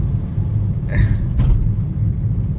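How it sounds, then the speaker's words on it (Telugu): Town road traffic in Narasaraopet rumbles steadily as a low continuous drone, with a brief higher engine or horn sound passing in the middle. "నరసరావుపేటలో ట్రాఫిక్ మామూలు లేదండి"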